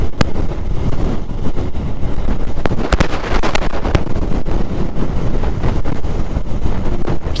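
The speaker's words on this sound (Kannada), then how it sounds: "ಗಾಳಿ ಸಿಕ್ಕಾಪಟ್ಟೆ ಬಿಸ್ತೈತೆ ಮಾತ್ರ" Strong wind roars continuously and loudly across the microphone during an off-road motorbike ride, a dense buffeting rumble with occasional sharp gusts and knocks.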